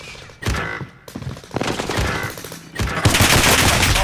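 Bursts of enemy gunfire in a first-person shooter video game, loud rapid volleys with short gaps, building into a sustained dense barrage at the end.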